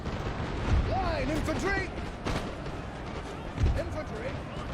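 Artillery fire from a Napoleonic battle in the Napoleon: Total War video game, aimed at armed citizen militia: two low booming shots about three seconds apart, set under continuous battle noise with whooshing, whistling projectiles.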